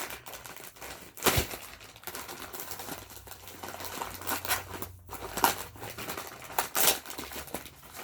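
Crinkling plastic packaging around books and a few sharp snips of scissors and rustles, close up and intermittent, with no speech.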